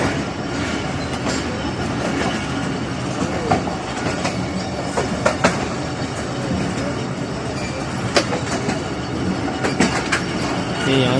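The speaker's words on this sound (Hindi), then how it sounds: "ये देखें आप, ये हमारी ट्रेन है" Train departing Rawalpindi for Karachi, a loud, steady rumble of rolling carriages with clattering wheel noise and occasional sharp metallic squeals, constant throughout, with faint talk underneath.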